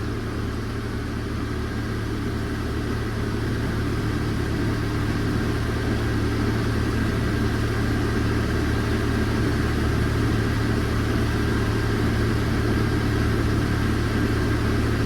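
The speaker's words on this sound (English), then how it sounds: "Got a bad exhaust leak." A Chevy S10 pickup engine idles steadily with a bad exhaust leak, giving a continuous low rumble and raspy hiss close to the listener, unchanging throughout with no talk.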